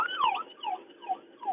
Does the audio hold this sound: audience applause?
no